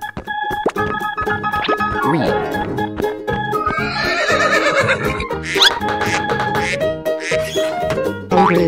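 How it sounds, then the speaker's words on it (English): A toy-like electronic horse whinnies with sliding, warbling tones over jingly synthetic music, loud and close. "horse"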